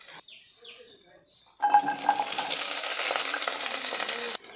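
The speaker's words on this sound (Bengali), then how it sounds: "রসুনগুলো ভালো করে ভেজে নিব।" Chopped onion and garlic drop into hot oil after a quiet moment, and a loud, close, hissing sizzle bursts out and holds steady until it cuts off near the end.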